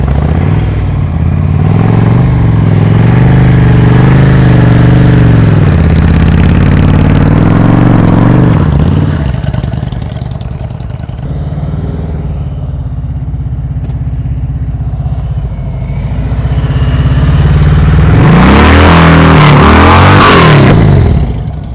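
A motorcycle engine revs and throttles in bursts during slow-speed riding practice around cones, loud and close, with a quieter idling stretch in the middle before the throttle opens up again; no voices are heard.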